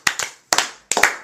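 Hands clapping in three quick bursts of two claps each, close and crisp, with short pauses between the bursts and no talk.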